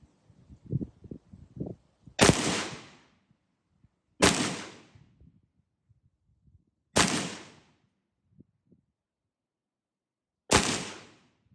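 Four sharp, loud 5.56 rifle shots, M193 then SS-109 ammunition, fired at a vehicle, spaced a couple of seconds apart, each with a quick decaying echo; faint shuffling noises come before the first.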